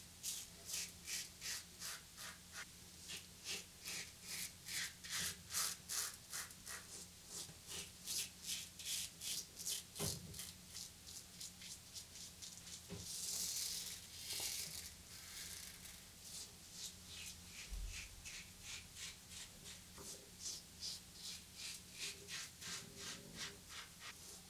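A stainless steel shaving tool makes its first pass over shaving soap lather, giving a close, steady scraping rub in rhythmic repeated strokes with a few soft knocks.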